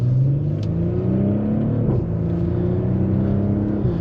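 A 2020 Audi SQ5 Prestige SUV accelerating hard, engine note rising steadily and loud throughout with a brief dip like a gear shift midway, heard from inside the cabin.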